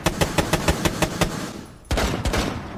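Gunfire in the shooter game Rainbow Six Siege: a steady string of evenly spaced single shots, then a short pause before a louder, denser automatic burst.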